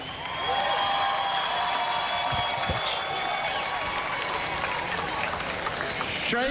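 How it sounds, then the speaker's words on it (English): A crowd at the 2025 Texas Cavaliers River Parade in downtown San Antonio claps steadily and loudly for several seconds, a broad wash of applause with scattered cheers. "Please join me in a round of applause"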